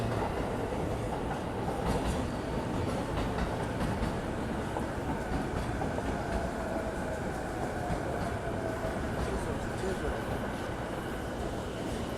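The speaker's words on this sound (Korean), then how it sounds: "여기도 전철 1번 쪽에 전철 들어와서 출발하고 있고요" A Tokyo commuter train pulls into a busy station platform and departs, giving a steady, loud rumble of wheels on rails with a faint squeal, under muffled crowd voices.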